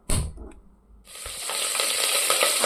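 Onions hit hot oil in a pan for a fish curry, starting with a sharp crackle and brief dip before building into a loud, continuous sizzle with scattered pops.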